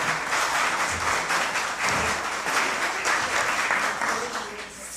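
An award ceremony audience applauds, a dense sustained wash of clapping through the whole stretch, loud and fairly close with no clear break.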